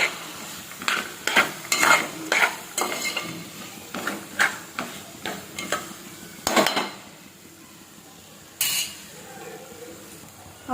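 Gongura leaves and salt being stirred in a cooking pot: a spoon scrapes and clatters in repeated irregular strokes over a soft sizzle, then pauses before one last scrape.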